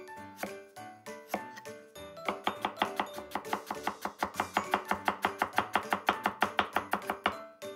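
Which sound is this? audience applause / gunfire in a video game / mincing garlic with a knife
mincing garlic with a knife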